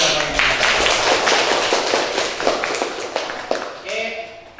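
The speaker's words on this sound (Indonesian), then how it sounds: "Oke, tepuk tangan dulu jawabannya." Classroom audience clapping in a quick scattered burst that thins out, with people talking over and after the claps.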